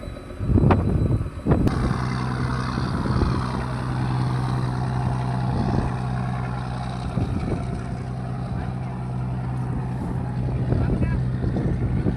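A fishing boat engine drones steadily with a low hum as boats motor out to sea while wind buffets the microphone; a few brief thumps and murmured voices break in early on.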